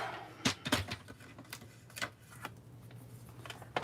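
Cardstock for a Stampin' Up! gift card holder is trimmed on a paper trimmer, producing a series of sharp close clicks and short slicing snaps spaced irregularly, with no talking.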